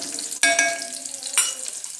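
Onion frying in a hot tempering of cumin and mustard seeds, a bright continuous sizzle with two louder bursts as the pan is stirred, close and without talk.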